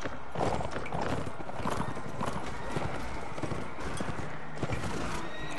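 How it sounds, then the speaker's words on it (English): Horse hooves clip-clop steadily and close in a medieval Mount and Blade Warband tournament, with a brief whinny over busy crowd and combat noise. "Ah, I crashed into a horse."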